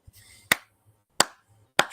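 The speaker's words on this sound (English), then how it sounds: "Slow clap, everyone" Three slow, deliberate claps ring out alone, each a sharp close crack spaced about two-thirds of a second apart with brief decay and near silence between.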